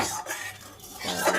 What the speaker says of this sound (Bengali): কড়াটা ধুয়ে দিই,